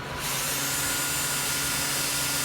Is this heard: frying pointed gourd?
no